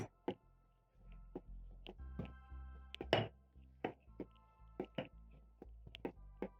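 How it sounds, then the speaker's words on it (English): Cinnamon roll dough kneaded by hand on a work surface gives a steady series of soft, close thumps and presses, about a dozen evenly spaced, with no voices. "So I'm going to knead my dough for around 2 to 3 minutes."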